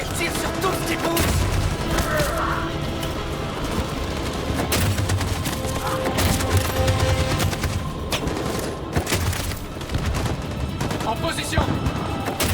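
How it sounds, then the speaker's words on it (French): Machine-gun fire in a Detroit: Become Human battle, a continuous, dense clatter of gunfire and explosions running throughout under shouted voices and other battlefield noise. "Cette saloperie de mitraillette tire sur tout ce qui bouge!"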